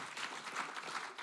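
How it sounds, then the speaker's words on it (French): Brief, fairly faint applause from an audience at a Haute-Loire mayors' awards ceremony, a soft continuous patter of clapping hands with no one speaking. "donc on peut l'applaudir un peu plus"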